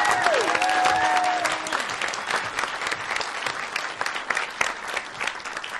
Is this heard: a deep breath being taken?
no